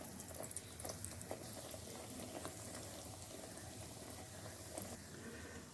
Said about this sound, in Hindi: ऑयल के अंदर मैं ब्रेड को डालने लगी हूँ।